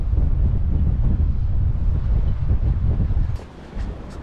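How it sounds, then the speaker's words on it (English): Strong wind and heavy rain at the edge of a harbour wall beside a boat, a loud, continuous roar buffeting the microphone that drops off sharply near the end. "it's pissing down with rain and windy"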